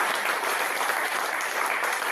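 A church congregation applauds steadily during a Sunday worship service, a dense, sustained clapping that fills the room at an even loudness from start to finish with no voices standing out.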